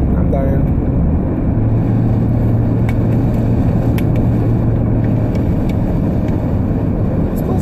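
A car's interior hums with steady, loud road and engine rumble throughout, a constant low drone with faint ticking above it and no clear speech.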